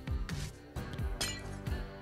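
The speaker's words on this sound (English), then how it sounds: "Glass panes." Glass panes breaking in Minecraft, four sharp clinking shatters spaced about half a second apart, quiet but crisp, and nobody talks over them.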